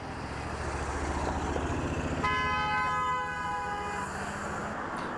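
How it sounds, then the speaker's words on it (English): A passing white car on Lexington Street in Waltham honks its horn, a loud sustained blast of nearly two seconds rising over steady road and traffic noise, then cutting off. "Close pass, clearly intentional with intent to intimidate, with the horn honk."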